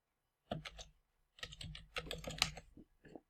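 Quick typing on a computer keyboard comes in two short flurries of close, crisp keystrokes separated by a brief pause, soft and alone with no voices.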